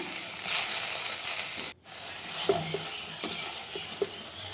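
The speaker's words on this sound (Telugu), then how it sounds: "సాల్ట్ వేసుకొని బాగా ఫ్రై చేసేసుకుందాం" Okra (ladies finger) frying with salt in a pan gives a steady close sizzle, with a short break and a few soft stirring taps.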